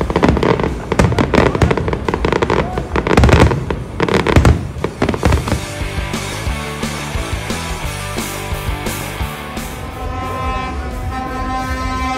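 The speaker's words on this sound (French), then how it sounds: "Cette première journée de course se termine en beauté avec un magnifique feu d'artifice." Fireworks mark the end of the first race day at the 24 Hours of Le Mans truck event, with loud booming bursts and crackling that give way to a steadier fizzing and sparkling.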